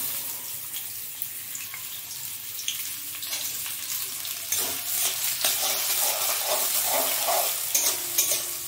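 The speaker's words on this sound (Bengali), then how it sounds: "পেঁয়াজটা ভাজা হতে থাক, ততক্ষণ ফিরে আসছি।" Chopped onion and green chilli frying in oil in a pan while a pasta dish is prepared. A soft sizzle starts quietly and swells midway, with light stirring clicks and crackles and no talking.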